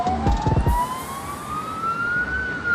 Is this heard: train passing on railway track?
no